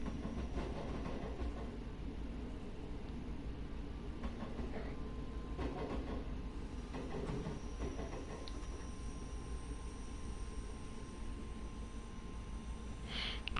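A Glasgow line train pulls out, its low rumbling and clickety-clack rolling on steadily at a moderate distance, with occasional brighter squeals and knocks from the rails and no one speaking.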